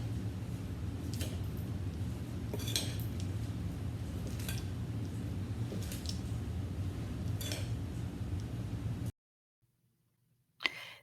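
Sugar being stirred into shredded cabbage coleslaw in a bowl, a continuous moist squishing and rustling with faint utensil clinks, steady and close, ending in near silence before one last brief knock.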